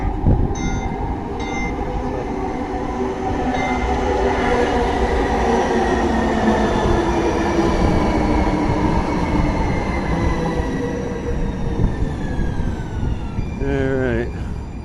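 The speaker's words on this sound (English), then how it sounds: "We got a train coming." A Houston Metro Rail light-rail train passes close by, a steady loud rumble with rising and falling tonal whine throughout, a bell-like chime early on and a squealing brake or wheel tone near the end.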